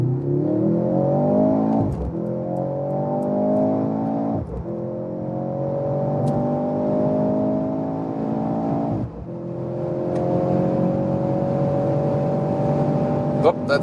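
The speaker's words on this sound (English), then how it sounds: "And now the Mercedes, let's go to the Sports Plus mode and accelerate it out." Mercedes in Sports Plus mode accelerating hard, its emulated engine note rising in pitch through three long upshift sweeps, loud and continuous inside the cabin, with brief dips at each gear change.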